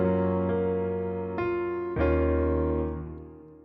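Dry piano playing an RnB melody with no effects: a few sustained chords and notes, each new strike clear and close, ringing out and fading near the end, with no talking.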